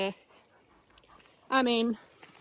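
A dog out on a walk gives a brief high whimper, then a longer whining cry a moment later, close and clear over quiet outdoor ambience.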